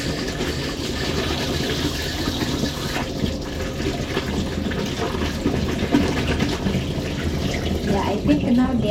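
Tap water runs in a steady, close rush while potatoes are washed in a Kenyan kitchen, with faint splashes and handling noises and no break in the flow.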